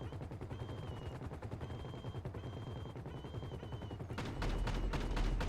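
Rapid automatic gunfire in the video game GTA 5 during a heist raid, a dense rattling burst pattern with a recurring electronic tone, swelling into louder, heavier shots near the end.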